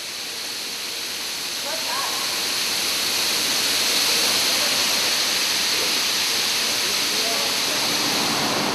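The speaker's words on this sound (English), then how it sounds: "up to 35 tons of cocoa beans can be unloaded into each silo" Cocoa beans unloaded into a silo at a chocolate-making plant, a dense, steady rushing pour like falling grain that swells after the first couple of seconds and holds loud and continuous.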